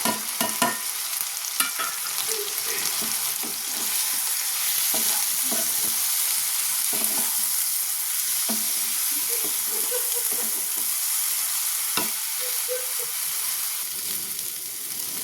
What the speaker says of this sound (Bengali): তো দেখো আমার মশলাটা কিন্তু ভাজা হয়ে গেছে।